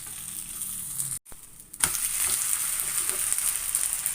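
Wheat adai frying in oil on a hot pan after being flipped, a steady close hiss and sizzle that briefly cuts out, then resumes louder and continues evenly.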